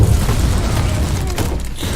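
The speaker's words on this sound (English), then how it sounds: "Grenade out." A grenade explodes in Warhammer 40,000: Inquisitor - Martyr, a loud, deep boom with a rolling low rumble that fills the moment.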